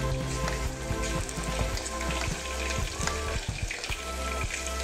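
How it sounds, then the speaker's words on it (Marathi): Ginger and garlic frying in hot oil for a home-style mutton curry, a steady close crackling sizzle with scattered pops and faint clinks, heard on its own. "थोडंसं आम्ही आता फ्राय करतोय।"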